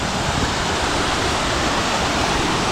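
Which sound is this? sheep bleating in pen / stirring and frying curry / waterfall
waterfall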